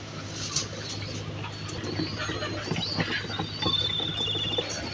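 Pigeons on a rooftop coo softly and shuffle as they are given water, with light pattering and faint bird calls over a low steady hum, outdoors in mild weather.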